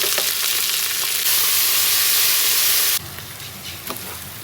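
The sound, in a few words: onion and tomato frying in hot oil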